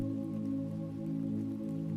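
Gentle rain falls softly and steadily under a low, continuous hum, faint and even throughout with no voices.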